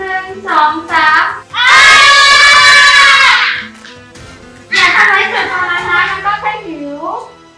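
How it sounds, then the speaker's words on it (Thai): In a cartoon, a group of characters shout loudly together in one sustained burst, then a second shorter burst, with speech-like voices and a rising, wavering cry near the end. "ทุกคนพอเราให้สัญญาณช่วยตะโกนเสียงดังๆนะ"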